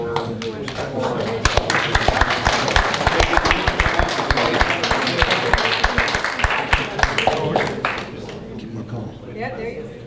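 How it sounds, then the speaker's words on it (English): Audience applause at a Nebraska Chess Hall of Fame opening, honoring a chess journalist, sustained dense clapping for about eight seconds that thins out near the end, with voices talking over it. "we give a round of applause to JJ"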